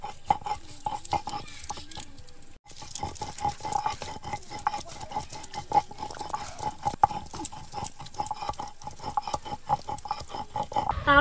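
Boiled coriander leaves, onion stalks and green chili being ground into a paste for green chicken on a grinding stone, a steady rhythmic scraping and rubbing that runs through the whole stretch with brief pauses, no talking.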